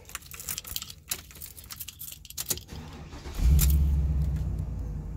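Keys jingle and clink for a few seconds, then the engine of a 2004 Workhorse chassis truck with ignition problems cranks and catches, settling into a loud, steady idle rumble.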